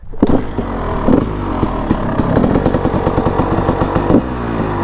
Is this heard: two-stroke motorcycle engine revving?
yes